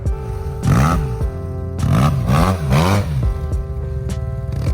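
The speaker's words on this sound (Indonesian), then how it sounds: "Walaupun menggunakan konfigurasi 2 silinder, karena dia inline, suara yang dihasilkan mirip kayak motor 4 silinder." A Yamaha T-Max scooter's inline two-cylinder engine blips repeatedly, each rev rising and falling quickly, with a buzzy idle between the four or so sharp throttle bursts, close by.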